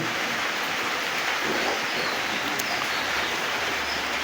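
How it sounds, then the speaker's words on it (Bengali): Monsoon rain drums steadily on a tin roof, a dense, even hiss that runs unbroken from start to finish with no voices. "বর্ষার শব্দ শুনতে পাচ্ছেন আপনারা টিনের শব্দ শব্দ হচ্ছে"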